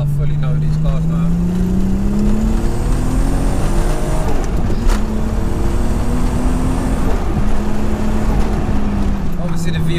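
A turbocharged MK3 Golf VR6 drives steadily under constant load, its engine droning with a rising then steady pitch that shifts once like a gear change, heard from inside the car with people talking over it.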